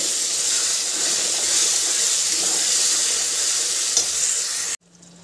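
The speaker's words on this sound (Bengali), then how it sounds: "যেই মশলাটা বানিয়েছি সেই মশলাটা দিয়ে দিলাম, দিয়ে এবার ভালো করে কষিয়ে নেব" Masala paste fries in a hot pan while being stirred for a paneer dish, a loud, close, steady sizzle with scraping that cuts off abruptly near the end, leaving near quiet.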